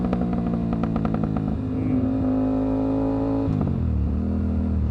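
Aprilia RS457 motorcycle with an AC Project full-system exhaust downshifting, loud and close: engine revs drop and rise in stepped blips with crackling pops, a steady drone, then another rev change near the end.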